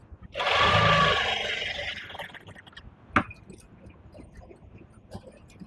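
A sewing machine stitches cloth in one loud, whirring burst lasting under two seconds, followed by a sharp click and then quiet room tone with faint small clinks.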